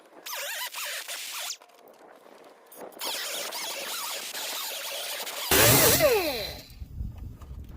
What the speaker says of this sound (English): cut that piece out a little bit too while I got my cutting disc